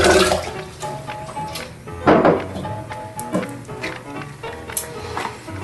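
Tap water runs and splashes into a jar, being filled for homemade almond milk. The noisy stream carries on steadily for several seconds, with clinks and surges along the way and no talking.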